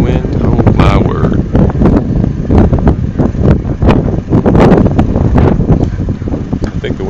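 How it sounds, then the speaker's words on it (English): Gusting wind roars steadily against the microphone outdoors while a house is lifted and swaying in the air, loud and continuous, with people talking over it. "I think the wind just picked up."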